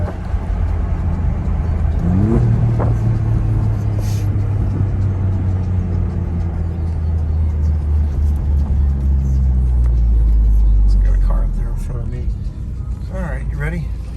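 A 2.9L Alfa Romeo Giulia Quadrifoglio engine hums steadily and builds toward the end, rising in pitch as it accelerates, with voices talking intermittently over the cabin noise.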